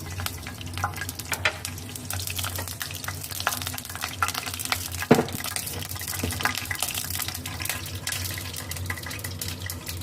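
Continuous crackling sizzle of mustard and cumin seeds in hot oil with small pops and sputters, a brief louder burst midway, steady and close throughout.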